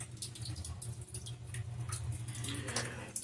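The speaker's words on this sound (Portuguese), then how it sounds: "Vamos resolver de uma vez por todas, chuveiro pingando." Faint, irregular water drips from a leaking shower valve fall over a steady low hum, close and quiet, with no voices.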